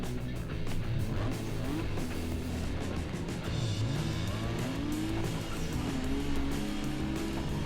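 A tuned street car from NFS Underground 2 roars through a test run, engine pitch rising and falling through gear changes, with tire squeals and skids over a steady loud drone.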